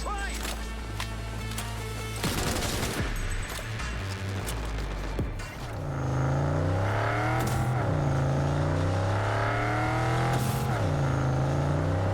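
Car driving in the game Cyberpunk 2077, with an engine tone that rises and falls in pitch as it accelerates and revs, loud and steady, after a stretch of game music and effects.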